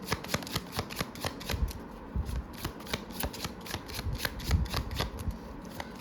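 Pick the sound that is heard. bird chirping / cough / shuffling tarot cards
shuffling tarot cards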